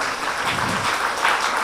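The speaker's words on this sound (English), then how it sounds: "Can we have a round of applause?" An audience at a budget talk breaks into a brief burst of applause, a steady, fairly loud wash of clapping lasting under two seconds with faint voices underneath.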